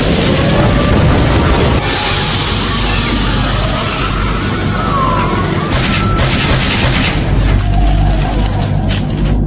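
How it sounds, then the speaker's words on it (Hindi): Fire-style flame bombs explode in an anime ninja battle as a loud, dense, continuous roar of booming blasts and crashing fire that fills the whole stretch without pause. "Fire style flame bombs!"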